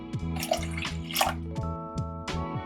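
Water pours steadily into a pot of coconut milk with a bubbling, splashing trickle, close by, over a constant low humming tone in the background.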